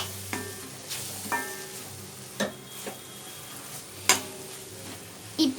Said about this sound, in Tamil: நல்லா வதக்கி விட்டுக்கோங்க.